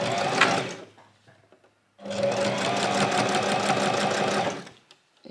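A sewing machine stitches the closing seam of a fabric scrunchie, with a brief whirring burst followed after a pause by a longer, steady run of fast needle chatter, close and loud.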